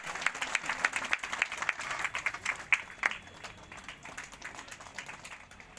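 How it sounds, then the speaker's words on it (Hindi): A ceremony audience claps for a list of named trainees at a district labour-community event. The applause is moderate and somewhat distant, with scattered sharp claps that thin out and fade toward the end. "इनके लिए ताली जरा जोरदार।"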